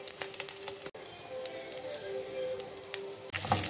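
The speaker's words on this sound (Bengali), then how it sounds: "এবার সামান্য পরিমাণ তেল দিয়ে তাতে আমি দেব কয়েকটা রসুন আর একটা পেঁয়াজ বড় করে কেটে নিয়েছি। তাতে সামান্য নুন দিয়ে একটু হালকা ভাজা করে নেব।" Garlic cloves and a roughly cut onion with a little salt fry in a small amount of oil, giving a soft, steady sizzle with scattered crackles and a couple of sharp clicks.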